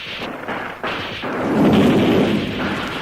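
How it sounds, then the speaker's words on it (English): A mortar bomb bursts close by in wartime battle on Crete, a heavy booming blast swelling into a rumbling roar that peaks midway and lingers before fading. "A mortar bomb burst right next to him, rolled him over."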